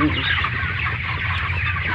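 Chickens cluck steadily and close by, a busy flock of overlapping hen calls at a poultry harvest, with a low background rumble.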